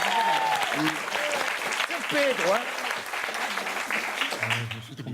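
An audience claps steadily throughout for a Corsican group, with lively music and a voice over it, a brief pause near the end before the clapping continues.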